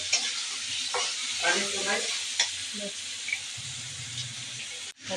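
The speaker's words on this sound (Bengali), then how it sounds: "মাছ আর শালগমগুলো আমি একসাথে কষিয়ে নেব, তাহলে দুটোটার মধ্যে মশলা ঢুকবে।" Taki fish and boiled turnip are sautéed and stirred together in a pan, making a dense sizzle with spoon scrapes and clatter, a faint voice-like murmur in the background, and a sharp knock near the end.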